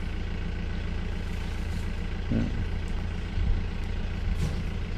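A pickup truck that has just delivered a load of fodder idles steadily nearby, a low continuous engine rumble with a few brief bumps and knocks, no talk over it.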